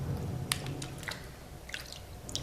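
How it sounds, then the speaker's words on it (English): Beef brisket being washed by hand in a bowl of clean water: soft wet drips, squishes and splashes come in a few scattered bursts, close and fairly quiet, with no voices. "place the beef brisket into a bowl, add clean water and wash it thoroughly"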